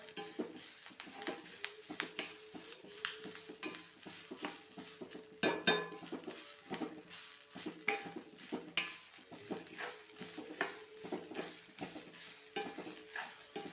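A spatula scrapes and stirs grated coconut roasting dry in a pan, with steady rhythmic scraping, clinks and a light sizzle running throughout at close range.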